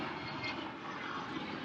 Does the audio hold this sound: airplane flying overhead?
yes